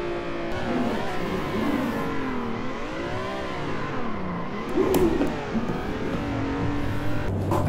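Engine of a drifting car in a racing video game played on a Thrustmaster T300 wheel, a continuous revving drone that rises and falls in pitch as the throttle swings, steady and loud, with no speech.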